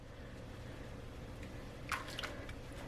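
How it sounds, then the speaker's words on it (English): A heart-shaped coconut milk bath bomb floats in hot water, making a soft watery background followed by a short cluster of close bubbly pops and drips near the end. "as you can see, it's foaming quite a bit"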